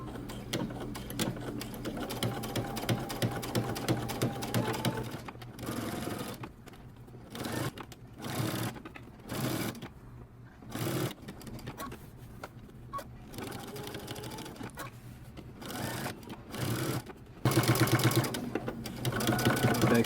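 A sewing machine stitches close to the edge of a men's button-up shirt collar and neckband, running in repeated short bursts with brief pauses and back stitches, loud and close, with a steady hum beneath.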